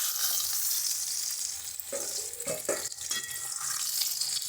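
Pomfret fish pieces fry in hot oil, sending up a dense, continuous sizzle. Clattering and splashing sounds come in partway through, suggesting a pan or utensils being moved nearby. No voices are heard.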